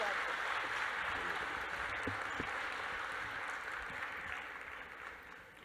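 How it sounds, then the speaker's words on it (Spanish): Steady applause from an audience welcoming a guest lecturer, a dense wash of clapping that gradually fades toward the end with no speech over it. "Recibamos con un muy fuerte aplauso al doctor Ricardo Castañón."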